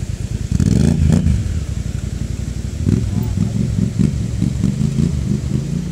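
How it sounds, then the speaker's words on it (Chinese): A group of motorcycles rides over a rough, rocky mountain road in western Sichuan's Jiesigou area, their engines droning loud and close with pulsing revs that rise again after a brief dip. "之后我们在这里还遇见了一组机车车队，真的是太酷太拉风了，他们在这里走着简直就是如履平地啊"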